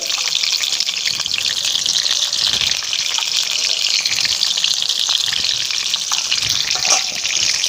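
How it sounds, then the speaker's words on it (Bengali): Potatoes seasoned with turmeric and salt fry in hot oil in a wok, a loud, unbroken hissing sizzle close by with light stirring bumps now and then. "আমার কড়া তেল গরম হয়ে গেছে বন্ধুরা, আমি এখন আলুগুলো ভেজে নেব।"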